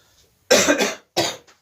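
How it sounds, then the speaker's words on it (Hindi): A man with a bad cold coughs sharply twice, close and loud, the first a harsh drawn-out hack and the second shorter, with near silence between. "बहुत तेजी से खांसी है"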